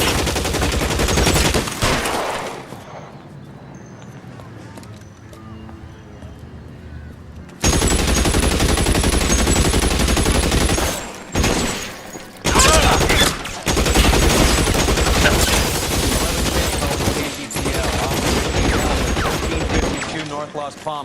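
Gunfire in an L.A. Noire shootout, with loud, close bursts of rapid shots and heavy volleys, a quieter lull partway, then sustained firing with voices talking amid the fight.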